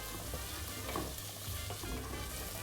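Onion and garlic cloves fry gently in a splash of oil in a pan over medium heat, giving a steady, close sizzle with a few soft stirring scrapes and no talk.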